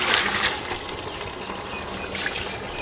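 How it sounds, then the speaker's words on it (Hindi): About a cup of water is poured into mutton cooking in oil in a pot for village-style biryani, making a short, close splashing trickle that rises and falls with no talking. "अभी इसमें हम तकरीबन 1 प्याला जो है वो पानी का शामिल करेंगे"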